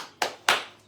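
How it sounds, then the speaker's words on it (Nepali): Two sharp hand claps ring out close by at a gathering for singing hymns, evenly spaced about a quarter second apart, each with a quick fading tail and no talking over them. "ताली बजाउने है।"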